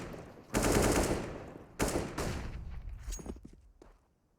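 Two bursts of rapid automatic gunfire in a CS:GO match on Dust2, loud and close, each a dense rattling spray, followed by quieter scattered shots and faint clatter as the firing fades.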